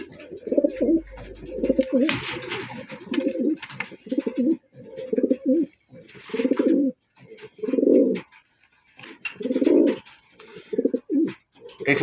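Pigeons at a farm selling local and foreign breeds coo in repeated throaty bursts, fairly close, with brief pauses between phrases and a few higher wing or scuffle noises.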